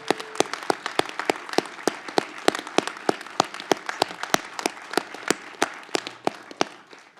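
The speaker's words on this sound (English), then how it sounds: "We should give them a round of applause." An audience at a family medicine residency graduation ceremony claps in a steady round of applause for standing staff, with sharp individual claps standing out above the crowd's dense patter, no talking.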